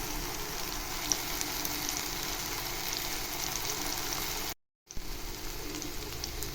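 Tomatoes and garlic sizzle steadily in a hot pan for chutney, a close, constant frying hiss that drops out briefly near the end before resuming, no talking.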